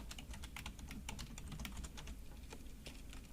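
Rapid keystrokes clatter on a computer keyboard as a command is typed, a quick, continuous patter of close clicks with no talk.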